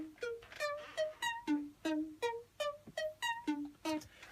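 Simple dry arpeggio played on a Roland System 100M synthesizer with no effects: a steady run of about a dozen short plucked notes stepping up and down, fairly quiet and alone.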